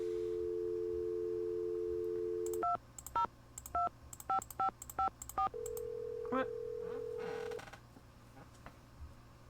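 Telephone dialing in the Nancy Drew game Secret of the Scarlet Hand: a steady dial tone, then a quick run of about nine DTMF key beeps, followed by a longer tone, clear and alone.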